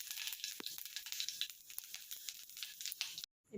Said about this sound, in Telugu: ఫ్రైకి సరిపడా ఆయిల్ వేడయ్యాక కొద్దిగా ఆవాలు, కొద్దిగా జీలకర్ర వేసుకుందాం.